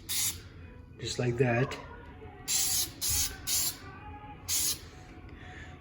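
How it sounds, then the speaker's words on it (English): Aerosol spray can laying a light automotive clear coat on a guitar headstock, heard as five short separate hissing bursts of about half a second each, with brief talk between them. "Practice spray here."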